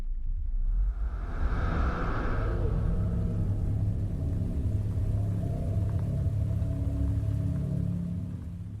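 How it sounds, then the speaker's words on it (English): A search helicopter flying through mist and fog over a mountain area after a storm, heard as a steady, deep rumbling drone that stays loud throughout and fades slightly at the end, with no voices. "A search helicopter powers through the mist, scouring the region for a pair of hikers from Tokyo"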